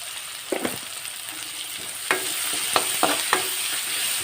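Onions sautéing with salt in a pan, a steady close sizzle broken by several sharp clicks and scrapes of a spatula stirring against the pan.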